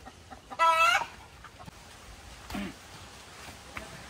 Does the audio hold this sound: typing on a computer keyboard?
no